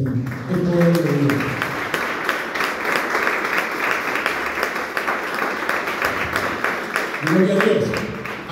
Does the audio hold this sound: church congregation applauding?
yes